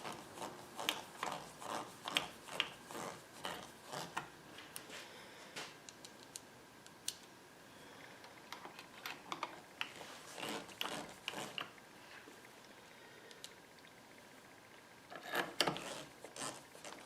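Screws being tightened with a ratchet while turning a dinner plate, a quick series of sharp, fairly loud mechanical clicks in bursts, pausing between screws, with no talk.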